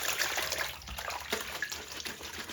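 Water sloshes and splashes in a basin as gloves are rinsed, soft and close, with a faint running-tap hiss underneath and no talk.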